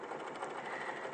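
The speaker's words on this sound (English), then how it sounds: "So yeah, we're just sewing the zip in here." A Singer-style domestic sewing machine stitching a zip into fabric, a steady close whirring motor hum with no pauses, running alone for the whole moment.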